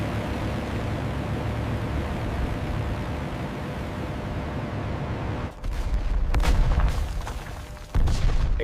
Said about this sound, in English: Explosions tear through the ancient monastery.